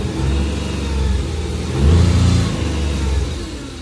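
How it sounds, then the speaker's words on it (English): A Polaris Ranger 1500 4x4 UTV, adapted for wheelchair use with throttle applied by joystick, pulls away with a loud mid-pitched engine rumble that swells as it accelerates, then settles back to a steady run. "Apply throttle."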